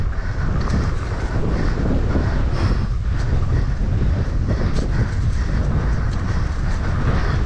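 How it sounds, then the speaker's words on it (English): Wind roars steadily across the microphone at the Bongabon enduro bike park, a loud, continuous broadband rumble with gusty swells and no voices. "The wind is blowing"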